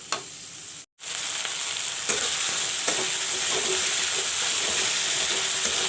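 Masala spices and turmeric powder frying in hot oil for a green banana curry: a steady, close sizzle that starts after a brief silent gap, with occasional light stirring clicks.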